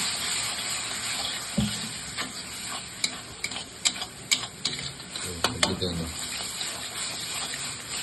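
Ginger garlic paste stirred into spiced oil in a frying pan for a brinjal curry, with a soft steady sizzle and a run of light spoon clicks and scrapes against the pan.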